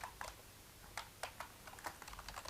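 Python code being typed on a computer keyboard during a beginner lesson on list methods: irregular bursts of light key clicks, close and fairly quiet, with no talking.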